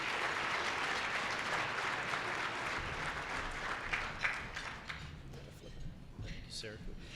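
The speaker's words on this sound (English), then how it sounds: "Give a round of applause for Jamie." Audience applause at an awards gala, a sustained roar of clapping from a large room that gradually thins out, with scattered individual claps and talk emerging near the end.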